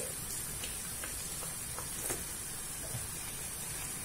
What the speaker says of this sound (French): Et on va le laisser encore mijoter 5 petites minutes